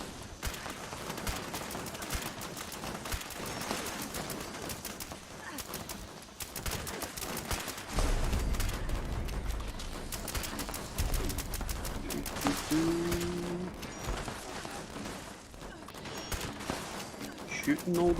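Gunfire in Fallout 76 during an event, a dense run of rapid shots and pops throughout, moderately loud under a busy game background.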